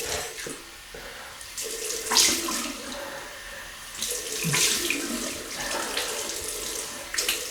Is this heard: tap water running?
yes